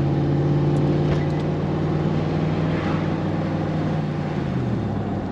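A 2000 Ford F truck with a damaged transmission drives along with a steady, loud engine drone, and the pitch drops near the end as it shifts into a higher gear.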